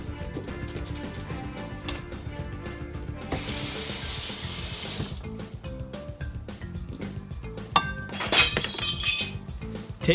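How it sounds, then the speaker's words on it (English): Dishes being washed at a kitchen sink under running water, with a steady tap stream, scattered clinks and clatters of glass and crockery, and a brief louder gush partway through. "Like doing the dishes."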